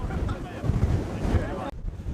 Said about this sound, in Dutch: Ik ga de pet maar even aan, jongen, want het waait hier als een orkaan hier, zeg.